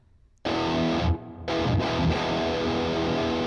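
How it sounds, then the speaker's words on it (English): A guitar amp tone with reduced fuzz and tighter distortion rings out in a few struck chords with brief gaps, each carrying a subtle reverb tail, heard close and alone. "So it's reduced the distortion even more, made it even tighter. And then it's added a little subtle reverb."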